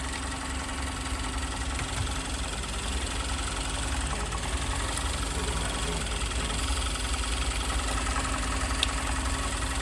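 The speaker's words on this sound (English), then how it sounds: "we get a little bit of inadequate running and sound from the engine" Engine running roughly with both the fresh air and suction sides blocked, a loud continuous low idling drone with uneven knocking pulses throughout, close up and without pause.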